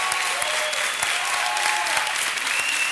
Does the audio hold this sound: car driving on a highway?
no